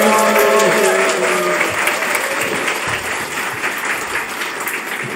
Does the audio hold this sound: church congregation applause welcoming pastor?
yes